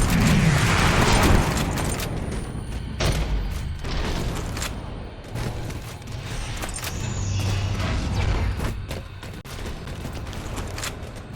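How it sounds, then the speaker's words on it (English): An elevator ride in the video game Halo 4: a steady mechanical rumble and grinding under a scatter of sharp knocks, bangs and bursts, fairly loud and busy throughout. "This elevator should take us directly to the coordinates Infinity provided."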